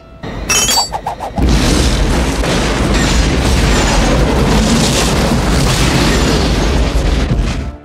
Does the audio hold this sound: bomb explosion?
yes